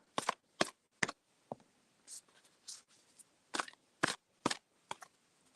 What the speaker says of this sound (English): Okay, I'm shuffling for Miss Janica now.